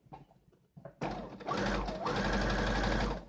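A sewing machine stitches a T-shirt, starting after a second of quiet handling and then running steadily and loudly close by, its speed dipping briefly as the needle turns a corner.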